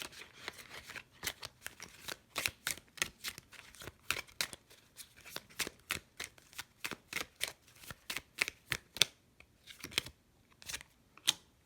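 Tarot cards being shuffled and drawn for a pick-a-card reading, a quiet close-up series of crisp riffling snaps and slaps repeating in uneven bursts, with no talking.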